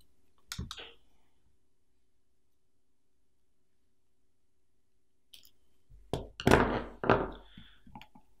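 Side cutters snip round the braid of a cable for a silicone termination kit, giving a sharp click near the start and then a cluster of louder, close snips and thunks after a long quiet gap.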